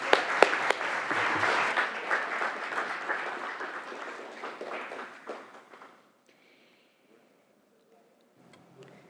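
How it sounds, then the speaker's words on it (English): Warm applause fills the California State Senate chamber in honor of a retiring official, clapping strongly for several seconds before tapering off into near silence. "So if we could, perhaps a round of applause."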